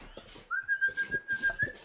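A character in the survival video game The Long Dark whistles a single rising, sustained tone over soft crunching footsteps in a snowy outdoor setting, moderately close and with no talking.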